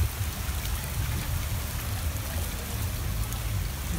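Heavy rain pours steadily onto a flooded street in the Arkadia district of Odesa, a dense, even hiss of rain and running water that continues without a break.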